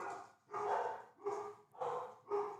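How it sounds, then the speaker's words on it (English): Dogs bark in the background, four or five distinct bursts in a steady rhythm, moderately close but fairly quiet. "excuse my dogs in the background"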